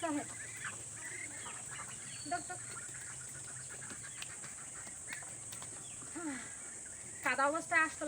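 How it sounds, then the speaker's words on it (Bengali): Ducks being herded into their shed at dusk at a rural home give scattered poultry calls over a steady insect hum, ending in a louder burst of calls near the close. "তো এখন এই যে হাঁসগুলোকেও ঘরে দিয়ে দিচ্ছি।"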